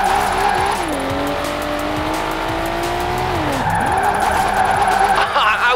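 Tires squealing under a revving engine as a car drifts in the video game Forza Horizon 4, a loud sustained screech that rises and bends in pitch, with the motor droning underneath.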